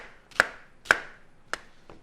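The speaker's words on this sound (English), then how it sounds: "Next thing we're going to chuck in there is an onion. We're just going to real rough cut this thing" A knife rough-cuts an onion on a cutting board, four crisp, separate chops at an uneven pace, close and fairly quiet with no talking.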